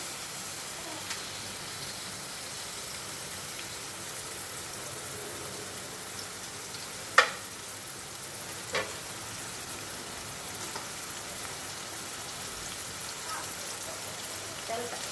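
Onions frying in hot oil for a cabbage dish, a soft continuous sizzle with a couple of faint clinks, heard quietly and alone.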